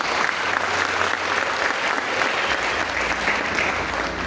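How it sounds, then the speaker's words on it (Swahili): A church congregation applauds at a service, a dense, even clatter of many hands that stays loud and steady throughout. "Pigia makofi jeshi."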